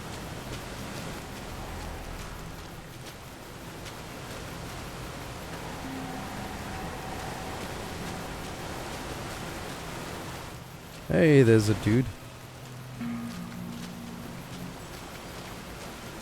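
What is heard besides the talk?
rain falling in a video game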